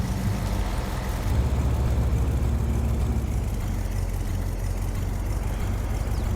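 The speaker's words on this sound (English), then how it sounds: "Oh, I love the sound of this truck." Truck engine in the video game Farming Simulator 22, a loud, steady low rumble that drones on continuously with no break.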